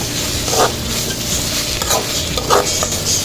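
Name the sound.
stirring and sautéing chili masala for dry fish curry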